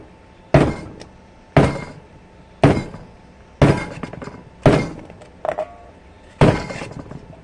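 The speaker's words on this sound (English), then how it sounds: "Usually take my hammer and a couple of little taps down." A hammer strikes a metal alcohol stove in seven separate sharp taps, spaced about a second apart, each one a crisp clank followed by a brief ringing decay.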